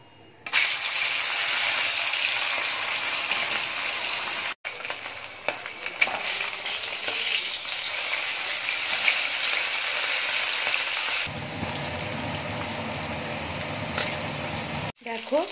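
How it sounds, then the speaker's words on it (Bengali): Pieces of katla fish fry in hot white oil with a steady, loud sizzle that carries through most of the stretch, broken by a couple of brief gaps and shifts in intensity. "তেলটা খুব ভালো করে গরম হয়ে গেছে, এবার আমি মাছগুলো একে একে ভেজে নেব।"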